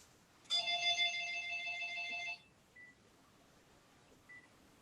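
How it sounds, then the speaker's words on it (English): A mobile phone ringtone sounds in a quiet room, a bright electronic melody of stacked tones lasting about two seconds before cutting off, followed by a couple of faint short beeps. "I'm just going to turn off that phone."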